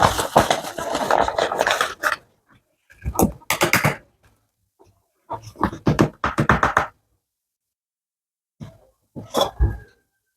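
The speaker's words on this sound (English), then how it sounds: "So we sieve the flour." Flour being sieved for cookies: a sieve is shaken and tapped in rhythmic clusters of rattling, scratchy bursts, with short silent gaps between the groups.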